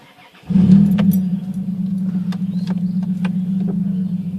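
A van's engine starts and idles as it is put into reverse, a sudden loud rumbling onset followed by a steady low running drone with a few faint clicks and rattles, no talking.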